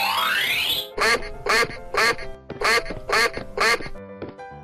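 A cartoon duck quacks loudly six times in a steady rhythm after a rising synthesized sweep, close and clear with no talking.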